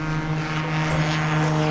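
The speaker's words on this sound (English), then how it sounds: "this takeoff starts with 10 degrees of flaps, jumping to 30 degrees of flaps during the takeoff roll" A light propeller airplane rolls down the runway for takeoff with full flaps, its engine a steady, droning buzz with a strong low tone that holds loud and even throughout.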